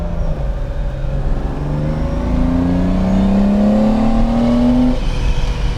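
A restored Lamborghini 350 GT engine revs hard, a loud close roar climbing in pitch through a long sustained pull, easing back briefly and then rising again.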